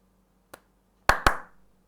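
One soft single hand clap is followed by two sharp, close claps in quick succession, marking a taali beat in a Hindustani rhythm lesson, all in near silence.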